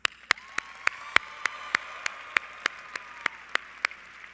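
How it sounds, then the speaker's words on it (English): Convention audience applause at a national FFA convention, a dense steady wash of clapping from a large crowd with a few sharp, louder claps standing out near the microphone at regular intervals throughout. "let's give her a round of applause"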